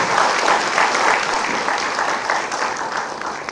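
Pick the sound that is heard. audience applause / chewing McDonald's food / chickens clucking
audience applause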